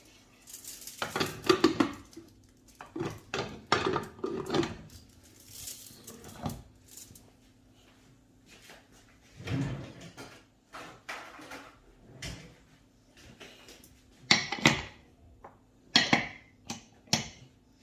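Metal clanks and knocks of a pressure cooker lid and pot being handled and set down on the stove, in scattered bursts over a faint hum.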